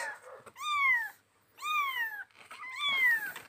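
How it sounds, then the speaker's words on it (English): Three clear, drawn-out meows from kittens follow one another at close range, each a rising-then-falling plaintive cry, with soft rustling in the quiet gaps. "here are the 9 kittens."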